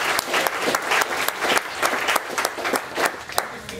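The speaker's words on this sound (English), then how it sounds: "please, give a first round of applause to our speakers" An audience at a panel discussion gives a steady round of applause for the speakers, with dense clapping throughout and no talk over it.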